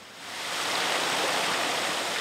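A spring stream flows near the site of an old mill, a steady broad rush of water that swells in over the first half second and then holds constant and fairly close, with no voices.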